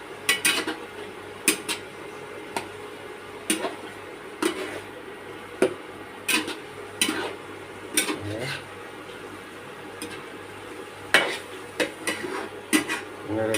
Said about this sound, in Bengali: এখন নেড়ে নিচ্ছি, সুন্দরভাবে